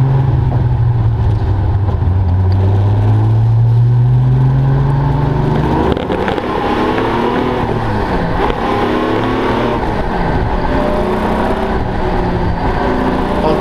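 A Triumph GT6 race car engine idles and blips as it heads out onto the track to form up for the grid, a loud close burble with a falling rev early on, then rough steady running.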